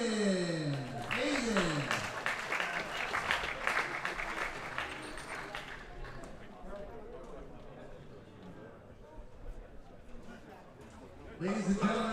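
An audience at a world classic powerlifting championship bursts into loud applause for the junior squat medalists, clapping building then fading over several seconds, with an announcer's voice audible at the start.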